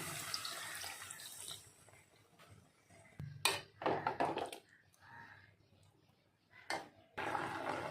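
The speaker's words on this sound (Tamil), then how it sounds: "இப்போ 2வது பாலை இதில் ஊற்றிக்கலாம்" Second-extract milk poured into cooked sago for jackfruit payasam, soft liquid pouring and splashing in short bursts with quiet gaps and some kitchen handling noise, close and low in level.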